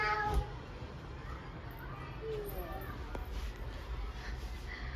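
A cat meows at home amid a family gathering, with a short, thin mewing call surfacing over steady chatter and household background noise.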